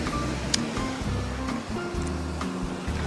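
Ocean surf rolling onto a Rhode Island beach, a steady broadband wash of breaking waves heard from close by, with no talking over it.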